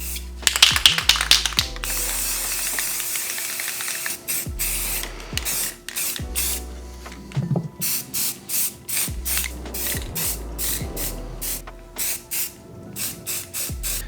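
Aerosol spray paint hissing in short bursts onto a hunting saddle platform hung from string, close and loud, with a rapid cluster of sprays at first, then a steady rhythm of brief spurts separated by clicks of the nozzle.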